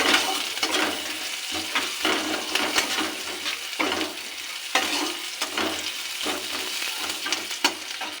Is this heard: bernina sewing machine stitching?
no